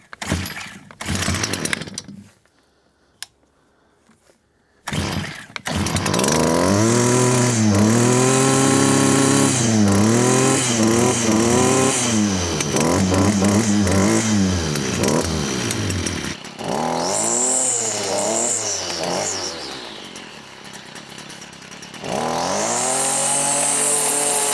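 Small gasoline lawn engine with primer and choke sputters, cuts out into silence, then catches and runs loud and close, revving up and down repeatedly with a few drops and restarts.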